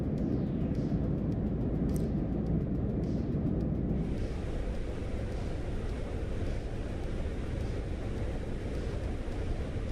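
Steady wind-like rushing noise inside a Fenix A320 cockpit in a flight simulator game, continuous and moderately loud, with a faint tonal pulse early on and a brighter hiss joining after a few seconds; no voices.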